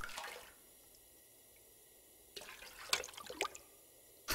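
Toilet water being collected in the survival video game The Long Dark, heard as short splashing and dripping bursts at the start and again near the end, fairly quiet with a silent gap between.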